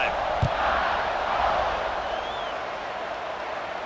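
Stadium crowd noise from a College Football 26 game with Alabama, a steady roar of fans after a scoring drive with a brief thump near the start, continuing under the broadcast atmosphere.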